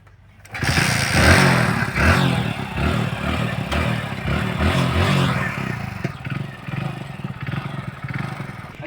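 A motorcycle engine runs with a steady, loud, close chugging rumble that holds for several seconds before easing slightly toward the end.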